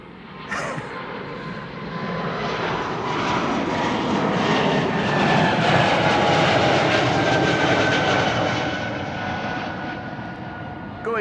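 An Air Baltic airliner at Amsterdam Schiphol Airport gives a loud, steady engine roar that swells toward the middle and then eases slightly, heard continuously throughout.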